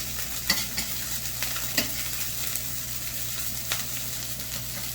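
Bacon fried rice stir-fried with a spoon in a hot pan: a steady sizzle runs throughout, punctuated by sharp scraping clicks of the spoon against the pan at irregular intervals, close and alone.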